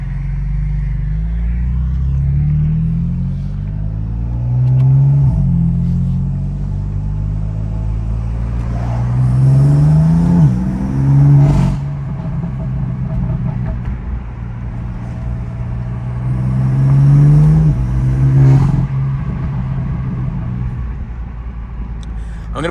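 BMW M4 CS driving on city streets at night, with a steady interior engine rumble, wind noise and several rising acceleration pulls as it speeds up.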